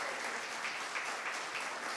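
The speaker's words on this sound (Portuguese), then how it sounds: "Vamos aplaudir nossos adolescentes e jovens" A church congregation applauding its adolescents and youth, a soft, even roar of many hands clapping together, distant-sounding and steady, with no voices over it.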